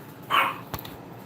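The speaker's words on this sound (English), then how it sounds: "Oh, what are you barking at?" A single dog bark, fairly close, followed by a fainter short yip, with otherwise quiet surroundings.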